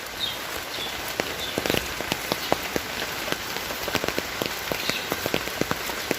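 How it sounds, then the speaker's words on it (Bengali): Heavy rain pours steadily, with loud close drops pattering and splashing sharply on a nearby surface. "কঠিন বৃষ্টি হইতে আছে পুরো।"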